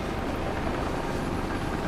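A steady, dense whirring roar of a video game helicopter rotor fills the moment, constant and fairly close, with no voices.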